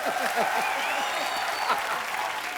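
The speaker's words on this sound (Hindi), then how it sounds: "एक बार जोरदार ताली होनी चाहिए।" A TV comedy show's studio audience claps loudly and continuously for a couple of seconds, the applause dense and close, with whistles and cheers mixed in.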